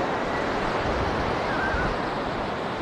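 Ocean waves breaking on the beach at Side in Turkey in April, a steady broadband roar of rough surf with wind noise, continuous and fairly loud throughout.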